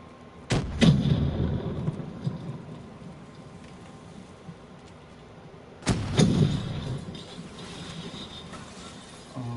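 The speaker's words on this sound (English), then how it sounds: "What bastard has a shotgun?" Two heavy shotgun blasts from a video game, about five seconds apart, each a sharp, loud crack trailing into a deep rumbling decay over a constant hissing backdrop, with no talking.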